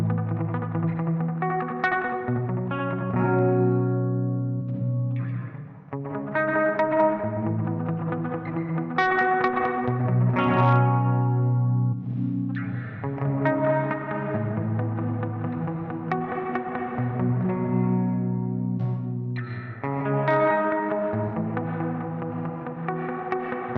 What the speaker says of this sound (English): I'm going to go through all the reverb algorithms